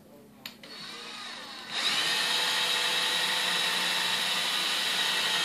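A power drill spins up with a faint whine, then ramps to full speed and runs steadily at close range, drilling holes in an Otterbox case.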